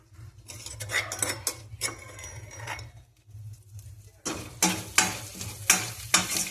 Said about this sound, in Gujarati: વઘાર આવી જાય પછી એમાં મીઠો લીમડોને નાખી પછી લસણ, મરચાં અને આદુની પેસ્ટ એ નાખીશું.